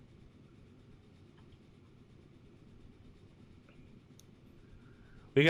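Trains run in the TF2 production game, a low, faint continuous rolling rumble that ends in a sudden louder burst.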